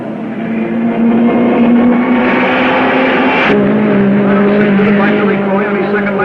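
Race car on a track during a lap, its engine buzzing loud and close with a steady pitch that drops sharply midway as it passes, under a voice.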